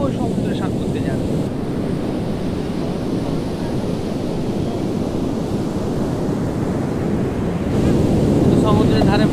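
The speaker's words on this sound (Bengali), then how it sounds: "সমুদ্রের ধারে বসলাম, দেখি সমুদ্রের মধ্যে ডুবে যেতে খুব ইচ্ছা করছে" Ocean waves break continuously at Puri beach in the early morning, a loud, wide wash of surf with strong wind buffeting the microphone; faint voices come through briefly.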